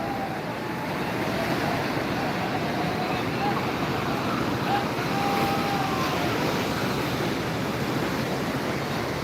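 Sea waves roll in at Digha beach under a steady, broad roar of surf and wind, continuous and fairly loud without clear breaks between waves.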